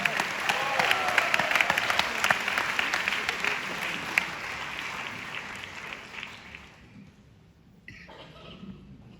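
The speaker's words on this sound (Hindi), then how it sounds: "जोरदार तालियों से इस्तकबाल कीजिए" Loud, sustained applause from a large audience at a live Urdu poetry event in Mumbai, dense clapping that fades out toward the end with a brief swell of crowd noise.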